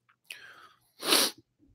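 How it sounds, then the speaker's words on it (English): A single person's sneeze, close and fairly loud: a sharp intake of breath, then an explosive burst, with a little breathing afterward, heard indoors. "I gotta sneeze"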